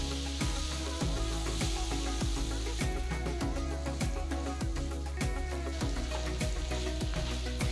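Diced boiled potatoes and boiled peas sizzle in a hot pan while being mixed, a steady crackling fry punctuated by regular scraping knocks of a spatula against the pan.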